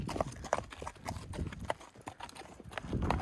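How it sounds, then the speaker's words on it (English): A horse walks with steady, fairly close hoof clip-clops in a quiet outdoor setting, with low background noise and no clear talking. "Hey, horsey."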